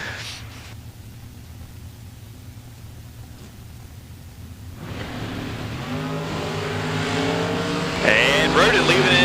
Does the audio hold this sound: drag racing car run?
yes